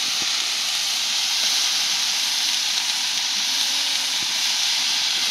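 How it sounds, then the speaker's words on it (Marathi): Chigal greens and chilli sizzle in a hot pan while being stirred, giving a loud, steady, close frying hiss with faint scraping underneath and no talking. "भाजी टाकून घेतली. टाकल्यानंतर लगेच अशी जरा हलवून खाली वर करते"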